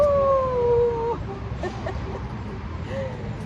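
Dogs playing in a park: a drawn-out howl-like whine opens, then brief yips and yelps follow, fairly close, under a steady background murmur.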